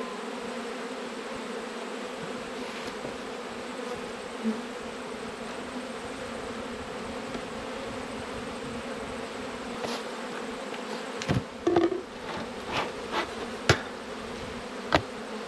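Honeybees buzz at an Australian hive in autumn, a steady moderate drone with a few sharp knocks and taps near the end, and no talk.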